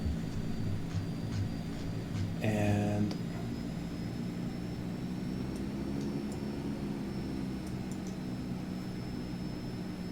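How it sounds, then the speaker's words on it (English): Engine of a C-160R Transall turboprop starting up in Flight Simulator 2024, a steady low drone with a rising whine throughout, one brief louder mechanical burst early on, and a single spoken word. "Looks like the engine is almost started up."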